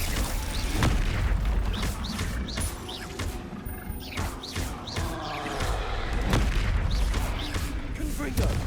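Confringo blasting spells in the video game Hogwarts Legacy: a run of booming explosions and thuds at irregular intervals, loud and close, mixed with swooshing spell effects and in-game voices.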